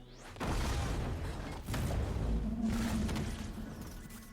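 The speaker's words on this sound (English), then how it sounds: "I really like that explosion." An explosion from the animated series Arcane, a loud, sustained roaring blast with rumbling low end that holds for several seconds with a brief dip midway, no talking over it.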